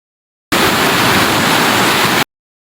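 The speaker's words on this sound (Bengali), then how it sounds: "দুইটা হুইসেলের জন্য অপেক্ষা করব" A pressure cooker holding cabbage and shrimp lets off a loud, steady rush of hissing steam, a single burst under two seconds long that starts and stops abruptly, with no talk.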